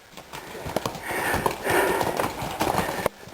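Horse hooves clip-clop along the Icehouse Canyon hiking trail, a steady run of close, sharp hoof strikes with some louder thuds, while a person talks over them.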